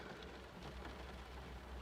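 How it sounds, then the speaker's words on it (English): Heavy rain pours down outside as a dense, steady wash of noise, continuous and even throughout, with no voices. "the weather's vile, absolutely pouring down with rain"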